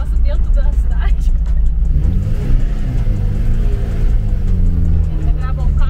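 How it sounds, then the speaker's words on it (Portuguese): A rare old Volkswagen's engine revs and rumbles loudly nearby, rising and falling through several throttle blips while people talk over it. "Acelera pra ele sentir o terror"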